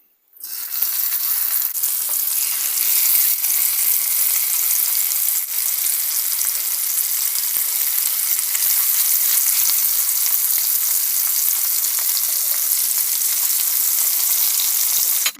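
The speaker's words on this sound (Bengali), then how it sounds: "আর ওই একই তেলের মধ্যে ইলিশ মাছগুলো ভেজে নেব" Pieces of roe-laden hilsa fish fry in hot oil with a loud, steady, continuous sizzle that stays close and even throughout, with no talking over it.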